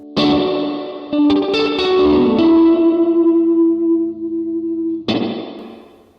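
Electric guitar notes ring out through the splashy spring reverb setting of a Black Country Customs Secret Path reverb pedal at zero pre-delay, each chord trailing off in a long, metallic wash before a final struck note.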